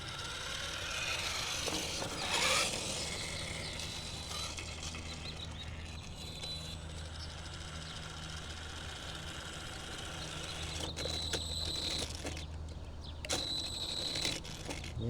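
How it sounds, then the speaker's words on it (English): Axial Ryft RC truck with a cogging motor and small pinion on a trial run, giving a steady mechanical whir with a ratcheting, clicking texture and brief louder surges over outdoor background. "it gets cogging a little bit with this motor in there"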